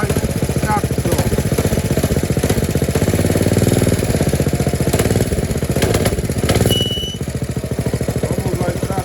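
Motorcycle engine with jetted VM22 clone carburetors running at a steady, loud idle, a continuous rough, pulsing putter close to the microphone with a slight swell in the middle before settling back down.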